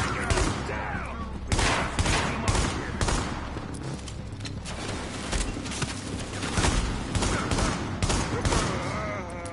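Heavy gunfire in the video game The Division, with dense bursts of automatic fire and rapid shots crackling continuously, loud and close, with no talking over it.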